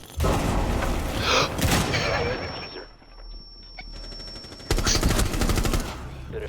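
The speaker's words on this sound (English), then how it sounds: "I'll throw a grenade over you." Rainbow Six Siege gameplay: loud bursts of rapid gunfire and a grenade blast crack out, fall away to a quieter stretch with a thin high whine, then the firing erupts again, with players talking over it.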